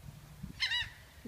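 A single loud honking call from a large bird, goose-like, at a Florida spot where birds are being fed, a brief nasal cry standing close and alone with faint rustling around it.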